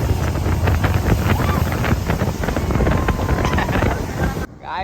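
A boat engine runs at sea off Alibag after being restarted, a loud steady roar mixed with heavy wind buffeting and splashing, cutting off abruptly near the end.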